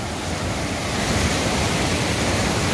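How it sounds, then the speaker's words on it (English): Rushing water of a mountain stream at a trail crossing, a dense, steady roar close by with no pauses, heard alone without any voices. "This is my first water crossing here."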